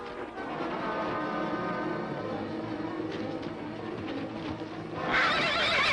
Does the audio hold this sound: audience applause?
no